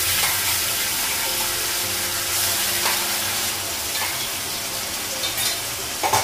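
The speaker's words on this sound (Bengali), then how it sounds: "আলুটা ভেজে নেব" Potatoes fry in a pan alongside onions that are already browned, giving a steady close sizzle with occasional stirring scrapes throughout, no talking.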